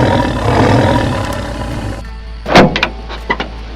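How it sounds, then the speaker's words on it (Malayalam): A tiger in an animated cartoon lets out a loud, brief roar midway, after a rumbling stretch and a sudden drop in the background, followed by a few short sharp accents. "അയ്യോ കടുവ, കടുവ."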